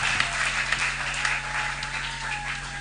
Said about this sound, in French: Applaudissez très fort pour tout ça